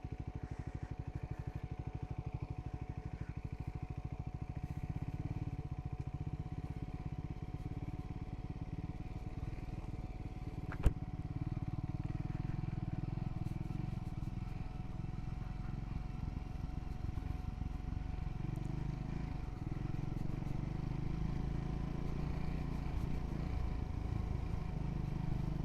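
A Royal Enfield Scrambler 400X motorcycle rides an off-road hill trail, its engine a steady, close, low rumble throughout, with one sharp clack partway through and no talk.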